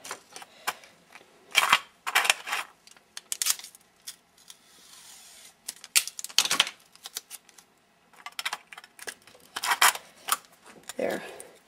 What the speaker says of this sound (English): Tape this to the bottom center of the 30 millimeter piece.